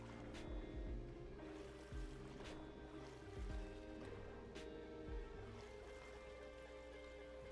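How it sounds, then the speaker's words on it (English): Sea waves from the video game Stormworks wash and splash steadily around a boat, with repeated soft surges and trickling water at a quiet, even level and no talking. "These waves are getting big."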